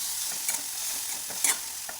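Onion and green chillies fry gently in a pan over a low gas flame, a quiet, even sizzle broken by occasional light stirring taps.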